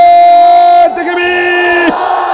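A crowd at an Islamic religious sermon (waz) roars in unison in response, a loud sustained collective shout that swells, shifts pitch midway, then cuts off abruptly.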